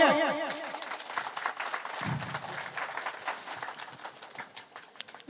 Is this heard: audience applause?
yes